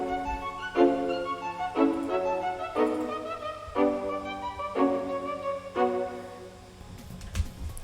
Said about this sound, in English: I pasted the lead into a staccato violin.